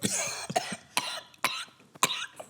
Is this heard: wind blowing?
no